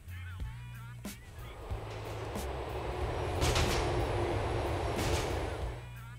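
A train rumbles along in Grand Theft Auto IV, a steady low roar that swells in the middle and carries brief clanks and hisses, with game sounds around it.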